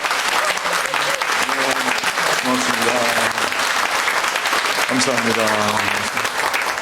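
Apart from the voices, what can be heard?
applause for the fasting group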